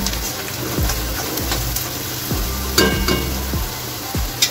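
Poha being stirred and mixed in a kadhai, a steady scraping sizzle with rhythmic spoon strokes scraping the pan roughly every second, close and moderately loud, with no talking.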